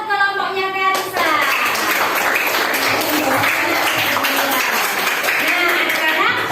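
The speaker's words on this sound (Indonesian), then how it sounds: "Oke, tepuk tangan untuk kelompoknya Karisa." A classroom of students claps for a student group, starting after a brief spoken moment and continuing as lively, fairly dense applause with children's voices mixed in.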